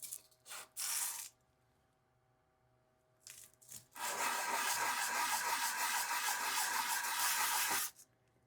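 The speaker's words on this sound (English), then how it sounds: "So we're going to sand it and see how it looks from there." A Dr. Grabow Golden Duke tobacco pipe bowl is sanded by hand, starting with a few short scratchy strokes and then a steady, close rasping rub lasting about four seconds, with no talking.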